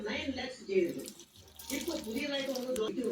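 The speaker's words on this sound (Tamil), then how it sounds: "தேவையான அளவு தண்ணி ஊற்றிக்கலாம்." Water splashes and trickles into a bowl in short pours, fairly close, while a voice talks over it.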